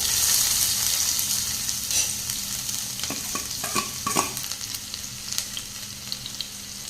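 Chopped onion fries in hot oil with popped mustard seeds for brinjal kara chukka, a loud, continuous sizzle with a cluster of sharp stirring clinks and scrapes midway.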